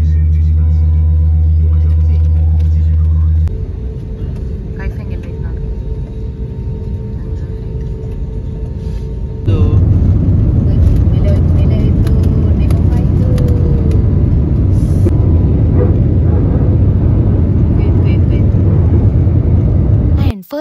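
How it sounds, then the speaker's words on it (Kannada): Loud, continuous engine roar that swells and intensifies partway through, a powerful jet rumble building steadily like an aircraft accelerating for takeoff, on a flight from Zhengzhou to Hong Kong. "ಫಸ್ಟ್ ಫ್ಲೈಟ್ ಟೇಕ್ ಆಫ್ ಆಯಿತು"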